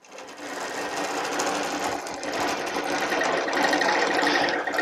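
A sewing machine runs steadily, basting the layers of a quilt with a continuous, close whirring stitch and no voices over it.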